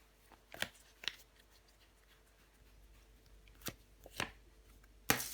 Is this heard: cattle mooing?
no